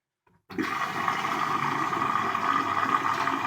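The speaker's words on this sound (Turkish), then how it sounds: "Makine döndüğü zaman içerisinde su alıyor." A washing machine starts filling with water for a load of whites: after a near-silent moment, a sudden steady rush of flowing water begins and continues loud and close.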